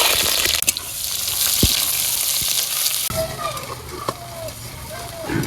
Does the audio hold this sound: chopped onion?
yes